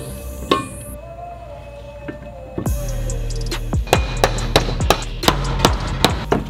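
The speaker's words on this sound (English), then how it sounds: "So, just give it some love taps." Light taps knock together the aluminium case halves of a Subaru FA20DIT engine: a series of sharp, close metallic knocks, irregular and closely spaced, with no talking.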